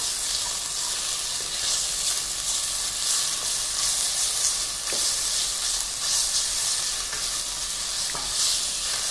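Ginger garlic paste fries in a pan of oil with sliced red chilies, a loud, continuous close sizzle with a few faint spoon knocks and no voice.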